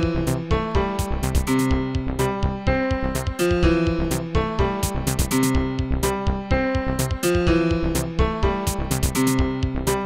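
An electronic drum pattern made in SunVox with a snare drum added, looping steadily with punchy kicks, crisp snare hits and bright hi-hat ticks over synth tones, full and loud throughout.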